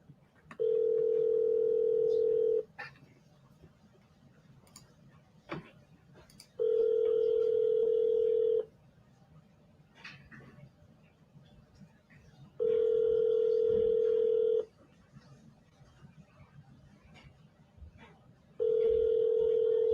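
Ringback tone of a telephone call placed to a seller, four steady two-second rings separated by about four-second pauses, clear and level over faint background noise.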